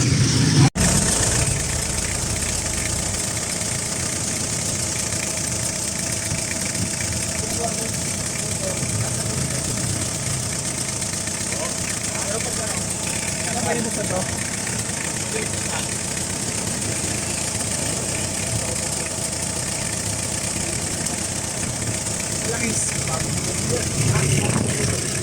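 A freshly overhauled owner-type jeep engine idles steadily and continuously for a long stretch, a constant mechanical rumble with faint talk underneath.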